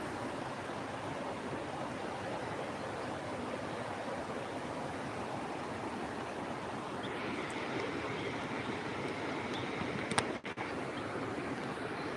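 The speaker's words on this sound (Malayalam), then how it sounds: "പുഴയിൽ നല്ല രീതിയിൽ വെള്ളം കയറിയേക്കാം" River water rushing steadily over sloping rock in Kerala, a loud, continuous broadband roar with no talk, holding constant for the whole stretch.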